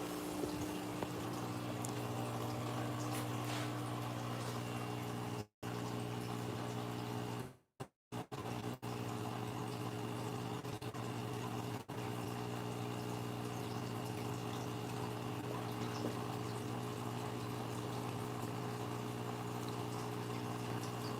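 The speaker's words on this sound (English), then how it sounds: "Better add some water to this tank now." Water runs and bubbles steadily into an aquarium tank in a continuous low gurgle, with a steady hum underneath and a few brief dropouts along the way.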